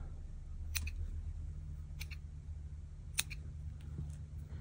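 Scissors trimming stray yarn from a crochet beanie, with a few faint, sharp snips spaced a second or so apart over a quiet low hum.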